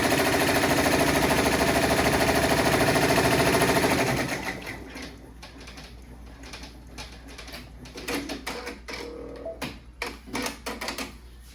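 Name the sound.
embroidery machine sewing a placement stitch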